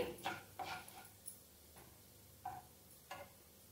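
Onions frying over medium-low flame for gongura vepudu, with a spatula stirring them in the pan, a soft sizzle broken by a few short scraping strokes, quiet and close, no talking.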